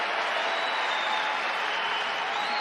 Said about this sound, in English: And the crowd respond as Djokovic continues out in front, 3-2.